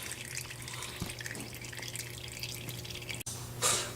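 Engine oil draining from an Infiniti G35 oil pan makes a faint, steady trickle and dripping patter, quiet and continuous over a low hum, with a brief brighter splash near the end.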